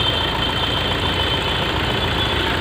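Hyundai i20 engine idling steadily around 850 rpm, a continuous low rumbling drone heard close up and alone, with no talk and no revving.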